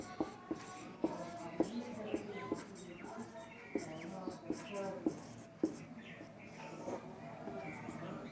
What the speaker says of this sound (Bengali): তো এইটা লিখছি আমরা।